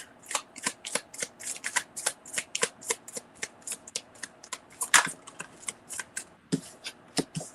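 A deck of playing cards being shuffled by hand during a psychic reading, a rapid series of crisp riffling bursts in steady rhythm, close and alone with no talk.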